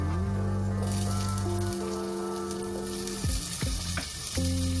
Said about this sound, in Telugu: ఆనియన్స్ ఫ్రై అయిన తర్వాత టమాటో ఫ్రై చేసుకుందాం.